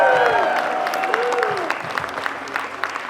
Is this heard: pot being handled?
no